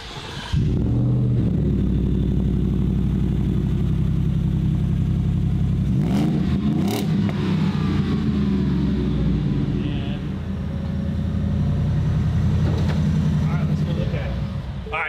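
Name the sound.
custom-built vehicle engine started and revving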